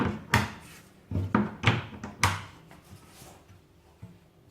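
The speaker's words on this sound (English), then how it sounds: "The nice thing with this is you can actually unclip this door." A few sharp plastic clicks and knocks come close together as a kitchen cupboard door snaps back onto its clip hinges, then a softer tap.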